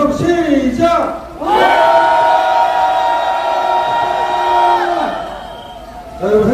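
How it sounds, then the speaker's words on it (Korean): A large crowd at a Saturday political rally roaring together in a long sustained shout, breaking briefly before surging into a loud, drawn-out collective cry that holds for several seconds and tails off. "여기 같이 한번 초신님처럼 함성 질러보겠습니다."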